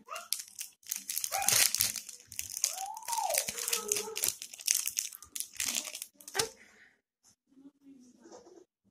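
Packaged fabric bunting fitted with paper clips is unwrapped up close, giving loud, busy crinkling and tearing of plastic packaging that tapers off near the end, with a voice speaking briefly over it.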